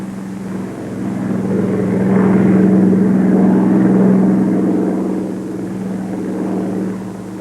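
A Bell P-39 fighter's engine run up to full throttle, a loud, steady propeller drone that swells through the middle and holds near and continuous, with no talking.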